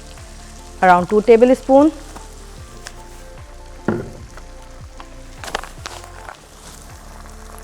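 Hot sauce hits a hot pan and sizzles steadily in a home-style kitchen, a soft continuous frying hiss with a brief spoken instruction over it.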